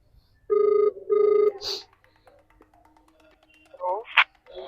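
A telephone rings twice in steady, even tones, followed by a short pause and brief voices.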